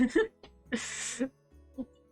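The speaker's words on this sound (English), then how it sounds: "Sorry guys, need to cough." A single harsh, breathy cough bursts out, close and fairly loud, preceded by brief throat sounds and followed by a small catch of breath.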